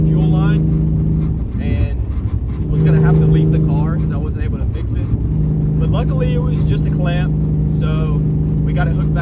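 A lowered Nissan 350Z cruising at about 80 mph on an interstate, its steady interior engine and road drone continuous beneath someone talking.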